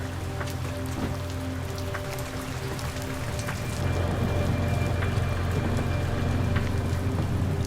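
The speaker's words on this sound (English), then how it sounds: "it's already pouring rain, wet, and stormy" Pouring rain drums steadily on a surface during a stormy mountaintop camping trip with Jeeps, a dense hiss of drops that grows louder and heavier about halfway through, and no voices.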